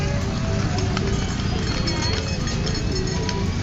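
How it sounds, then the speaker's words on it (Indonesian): Horse-drawn carriage hooves clip-clop steadily in a busy outdoor setting near a lake, mixed into constant crowd noise and a low background rumble. "Di sebelah sini juga ada delman yang mau naik delman."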